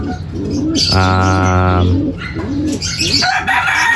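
A racing pigeon coos loudly and close, a sustained throaty call in the middle, with other soft bird calls and chirps around it.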